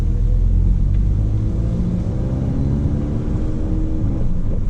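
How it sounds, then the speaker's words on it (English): A car with a tuned DSG dual-clutch gearbox pulls away and accelerates, its engine drone loud and close from inside the cabin, with pitch slowly climbing as it holds a gear before shifting. "it did stay in second gear a little bit longer before it shifted"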